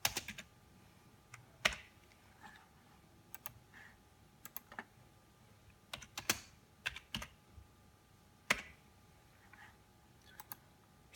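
An axis title being typed on a computer keyboard, with quiet, close, irregular key clicks and taps in short runs over about eleven seconds, and no voice.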